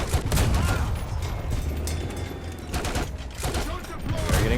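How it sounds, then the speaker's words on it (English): Artillery shelling and gunfire in the War Thunder video game, a dense continuous barrage of booms and crackling shots across the whole stretch, with a voice speaking over it. "Shelling the hell out of them"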